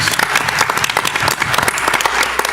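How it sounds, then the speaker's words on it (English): A school board meeting audience breaks into applause, loud and continuous, thick rapid clapping filling the whole stretch without a pause. "a round of applause for Deb"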